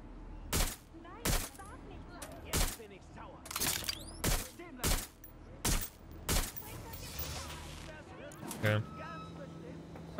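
Gunfire in the video game Watch Dogs: Legion: about ten sharp, loud shots or short bursts spaced unevenly over several seconds, each cracking out and decaying into the game's background ambience.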